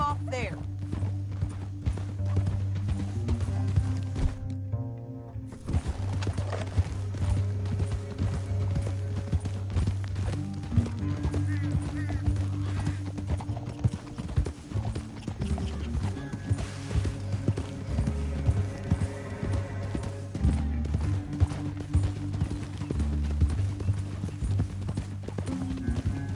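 Horses clip-clop and gallop across rough ground in a Western-style video game, hooves drumming steadily under a music score and occasional spoken dialogue, with a brief pause partway through.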